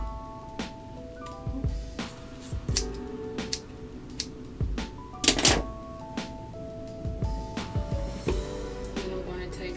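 Scissors trim natural, heat-free hair in a series of crisp, close snips and clicks at an irregular rhythm. Light handling noises come between the cuts.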